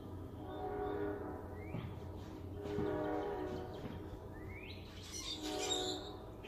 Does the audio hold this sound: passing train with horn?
yes